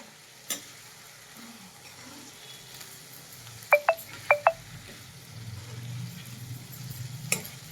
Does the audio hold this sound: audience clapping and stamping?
no